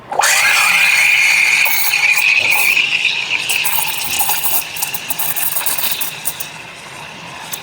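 Milk poured steadily from a 20-ounce stainless barista frothing pitcher, a close, loud gushing stream with a ringing tone that slowly softens and thins over several seconds, no talking.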